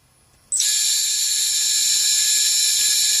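A small electric motor on a vibration balancing test switches on abruptly after a brief quiet moment, then runs with a loud, steady high-pitched whine that holds to the end, with no talk.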